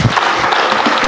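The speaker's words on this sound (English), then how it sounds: "Let's clap for her again." An audience at a teacher education summit applauds, a dense, loud, continuous patter of clapping hands filling the whole short stretch.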